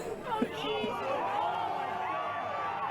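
A large wrestling crowd at a deathmatch murmurs and chatters in a steady, distant roar, with occasional shouts rising above the noise.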